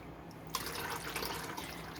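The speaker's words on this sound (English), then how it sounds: "Pour out the water." Water pours out of a cup after hydro-dipping with marbling paint, a quiet, steady splashing trickle into a basin lasting a couple of seconds, with no talk.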